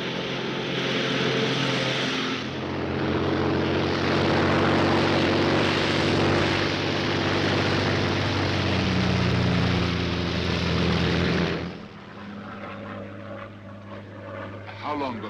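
A Royal Air Force propeller plane drones steadily in flight, a loud continuous engine hum that fills most of the stretch before dropping off sharply near the end, with faint voices underneath.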